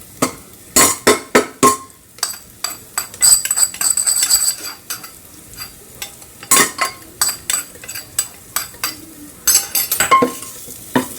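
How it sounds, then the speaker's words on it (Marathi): Roasted gram flour (besan) fries in oil in a pan for dhaba-style village chicken, with a metal spoon repeatedly scraping and clinking against the pan in rhythmic bursts over a soft sizzle, close and without talk. "अशा पद्धतीने चांगलं तेलात भाजलं जाते"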